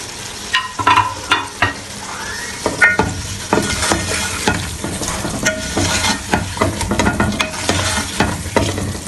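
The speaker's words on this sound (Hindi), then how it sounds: "अब इसमें मैं गोश्त डालूंगी, गोश्त की बनाई करूँगी इस मसाले में।" Beef pieces frying in nihari masala while being stirred steadily, a continuous loud sizzle broken by frequent scraping and knocking of the spoon against the pot, close up and without speech.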